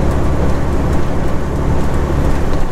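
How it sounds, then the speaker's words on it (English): Heavy rain and gusting wind beat against a truck on a wet, miserable day, heard from inside the cab as a steady, dense roar close around the listener, with no speech. "we begin this trip in a very windy, rainy, wet, miserable weather kind of day"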